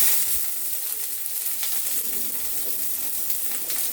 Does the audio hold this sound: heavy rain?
no